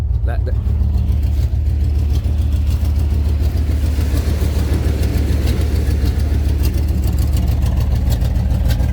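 A 1994 Chevy Blazer K5 with a suspected blown head gasket or intake manifold runs after starting, a loud, steady, close low idle rumble that continues throughout, with a voice heard over it.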